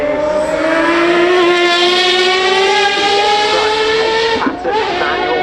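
A race car with a Cosworth V12 engine at the Goodwood Festival of Speed, a loud sustained high-pitched engine note rising steadily as it drives past, with a brief dip near the end.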